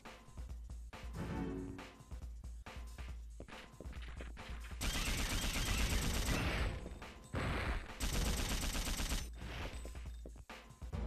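Machine gun fire from the video game Dino Crisis 2, a dense, loud burst of rapid shots that builds midway and rattles on almost continuously over heavy game noise, with crashing impacts mixed in.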